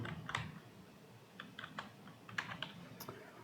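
Light clicks of a computer keyboard as someone types code, irregular bursts of keystrokes with short pauses, faint and close in a quiet room.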